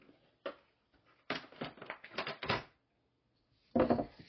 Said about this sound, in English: I'm going to use my guillotine to cut it